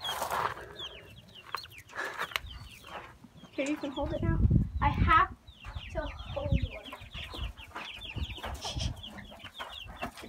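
Backyard chickens cluck and squawk close by in short bursts, mixed with excited children's voices talking over them.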